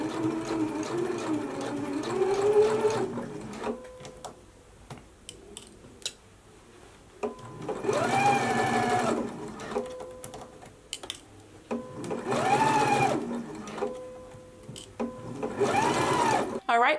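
A sewing machine stitches the facings of a Simplicity 8955 unlined jacket, running in several loud, steady bursts of a few seconds each, separated by pauses with ticking clicks.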